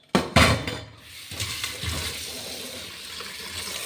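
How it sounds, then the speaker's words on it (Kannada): Water splashes and runs over green chillies being rinsed in a kitchen, with an abrupt burst of pouring at the start settling into a steady, moderate wash without speech. "ಈಗ ಮೊದಲು ನೀರು ಹಾಕಿ ತೊಳೆಯೋಣ ಮೆಣಸಿಕಾಯಿ"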